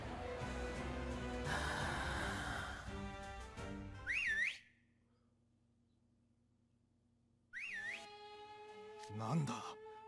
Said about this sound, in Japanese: なんだ口笛の音。